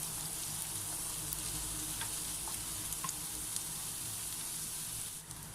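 Chopped onion sautéing in a tablespoon of cooking oil, giving a steady close frying sizzle with faint crackles throughout, no voices.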